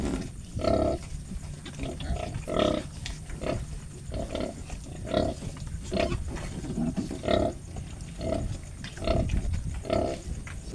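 Large piglets suckling from their mother sow, giving continuous rhythmic grunting and squealing that repeats about every second, loud and close, with a busy farm-pen background.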